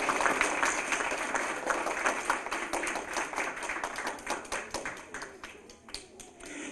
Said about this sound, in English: Parents, you want to give one more big round of applause, please?